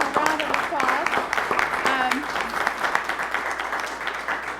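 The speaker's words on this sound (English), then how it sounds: "Let's give him a round of applause." Attendees at a city commission meeting applaud a long-serving district coordinator, sustained clapping across the room with talk running underneath it.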